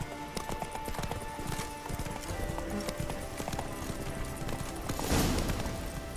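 Horse Roach gallops in The Witcher 3: Wild Hunt, hooves clip-clopping in a steady rapid rhythm throughout, with a brief louder burst of noise near the end.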